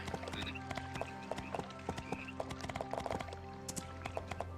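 Hooves clip-clop in a steady, uneven trot from a horse in a video game, close and fairly quiet, with a few soft clicks and no talking.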